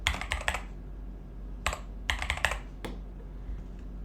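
Quick clusters of keystrokes on a computer keyboard, close and crisp, in three short bursts separated by pauses, with a low steady hum behind.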